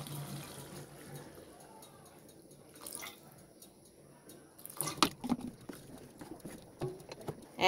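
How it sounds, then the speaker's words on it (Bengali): Water runs and splashes into a cooking pot for a potato and baim fish curry, coming in short uneven gushes and drips with clinks, moderately close in a quiet kitchen. "এখন আবার পানি দিয়ে মাছটা দিয়ে দিব।"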